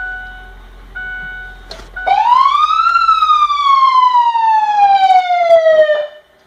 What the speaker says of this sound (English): Your siren